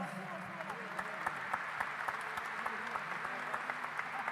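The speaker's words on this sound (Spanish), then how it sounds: "Un gran aplauso para él" Audience applause at an Air Force big band concert, a steady wash of clapping with distinct individual claps, fairly distant and moderate in level, continuing for several seconds.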